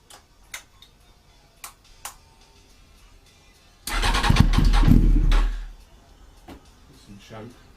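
A motorcycle fitted with Dynojet carburettor needles cranks and starts after a fuelling adjustment, a loud burst of engine noise lasting about a second and a half after some faint ticking, then dropping back to quiet clicks.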